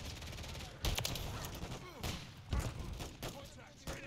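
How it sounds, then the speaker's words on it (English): A grenade explosion in Call of Duty multiplayer lands as a quiet, distant boom among bursts of gunfire and thumping impacts, heard faintly beneath the game mix. "That's a grenade."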